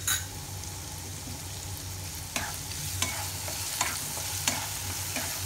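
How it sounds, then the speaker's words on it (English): Chopped capsicum and onion fry in a pan over high flame, giving a steady close sizzle broken by several sharp scrapes and clacks of a spoon stirring. "Fry them nicely."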